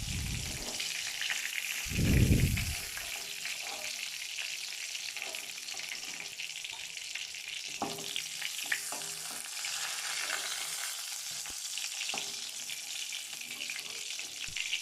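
Pointed gourds (potol) fry in hot oil for Bengali doi potol with a steady soft sizzle throughout, a short low thump near the start and scattered small clinks and pops. No one speaks over it.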